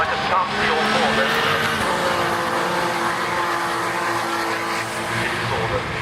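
British Touring Car Championship cars racing in qualifying, engines droning and revving steadily at mid distance with a faint tyre squeal, under continuous commentary.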